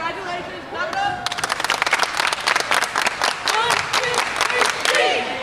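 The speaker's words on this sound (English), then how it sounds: "Clap it up" Crowd applauding a high school sports team, a burst of dense clapping that starts suddenly and keeps going with uneven rhythm, close and loud, with voices speaking and calling out over it.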